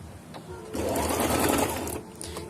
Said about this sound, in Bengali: এর ভিতর দিয়ে একটা সেলাই করে দেব। দেখুন আবার কিন্তু আমি এটাকে জয়েন দিয়ে দিচ্ছি।